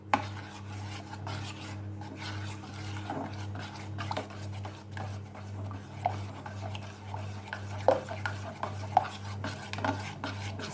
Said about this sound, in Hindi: इस तरह से लगातार हमें चलाते रहना है।